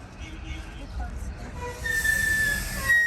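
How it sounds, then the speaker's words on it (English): A Walt Disney World Magic Kingdom parking lot tram rolls along with a low rumble, then a high metallic wheel squeal rises and holds near the end. "keeping your hands, arms, feet, and legs inside while the tram is moving"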